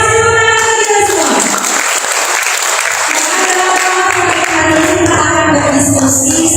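A workshop audience at a job fair in Magelang claps through a rhythm game, loud and close, while music or tonal voices sound over the clapping throughout.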